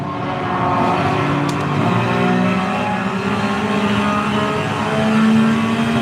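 A Porsche 911 race car engine in the Gran Turismo 7 video game holds a high, steady rev with a sustained buzzing drone and slight rises in pitch, loud and continuous with no talk.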